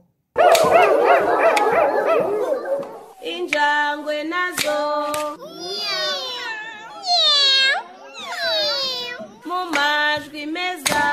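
Dogs bark and yelp loudly and close by in a rapid, uneven series of sharp and whining calls, with no other sound around them.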